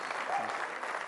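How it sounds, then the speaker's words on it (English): Brief burst of audience applause at a summit hall for a motivational speaker, dense clapping at moderate level with a hint of voice underneath, cut short after about a second. "Let's have a round of applause for Gaur Gopal Das."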